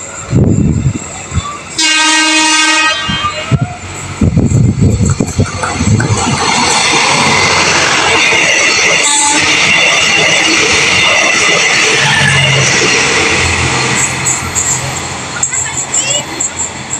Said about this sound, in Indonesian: kereta api feeder bias ini melintas langsung halte Gada Bangkong.